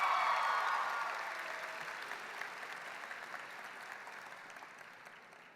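Audience at a 2019 Winter Haven Senior High graduation applauding staff, a broad, somewhat distant wash of clapping that starts strong and gradually fades.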